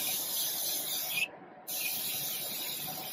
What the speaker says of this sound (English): I'm just going to spray more of that continuous setting mist.